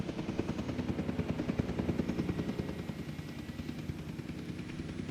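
A helicopter in the video game Jurassic World Evolution 2 gives off a steady, rapid rotor chop over a dense mechanical rumble, continuous and fairly close, with no voices.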